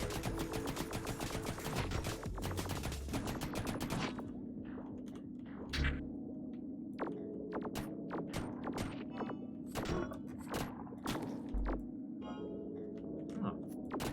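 Rapid gunfire from a shrimp-themed shooter game: a dense stretch of shots at first, then short bursts and scattered single shots with thumps, fairly quiet and without talking.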